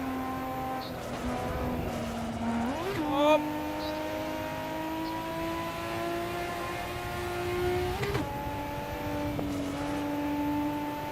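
A high-revving racing car engine in the video game Assetto Corsa whines steadily, pitch climbing and dropping with gear shifts, loud and close throughout.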